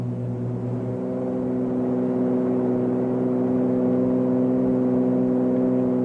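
Piston aircraft engine run to full throttle on takeoff roll, a steady loud droning hum with strong harmonic tones that swells slightly in pitch and volume as power builds, no talking.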